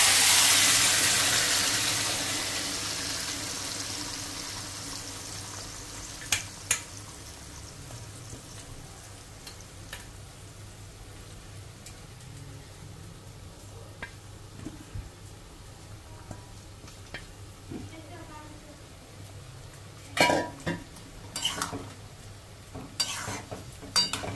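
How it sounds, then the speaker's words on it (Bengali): Marinated chicken goes into hot oil with a loud, close sizzle that eases into a steady crackle of frying, with occasional clinks and scrapes of a stirring utensil; no one speaks. "তেলটা মোটামুটি গরম হয়ে গেছে, এবার আমি এই ম্যারিনেশন করা চিকেনটা দিয়ে দেবো"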